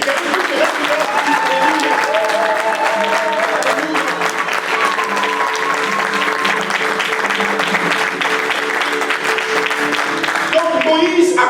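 Church congregation applauding and cheering for Jesus, dense sustained clapping with raised voices and sung tones running underneath, loud and continuous throughout.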